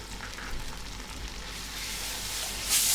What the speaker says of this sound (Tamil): இந்த இஞ்சி பூண்டு பேஸ்ட்டு பச்சை வாசனை போகிற வரைக்கும் முதல்ல நல்லா எண்ணெயில் வறுத்துடணும்